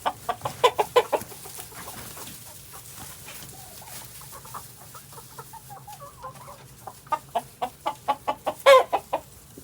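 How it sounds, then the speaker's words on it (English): Farmyard chickens and turkeys cluck in rapid rhythmic bursts at the start and end, with softer scattered clucks and murmurs between, close by and fairly loud, no voices. "Henry and I are just dumping some bad old bread to the chickens and the turkeys."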